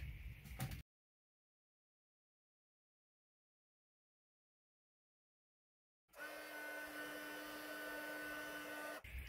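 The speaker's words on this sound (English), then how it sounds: "I'm just going to heat emboss that same happy birthday sentiment we've used before in black." A heat tool embossing a black happy birthday sentiment on pink cardstock: after a long silence it starts up as a steady, close whirring blow that runs unbroken to the end.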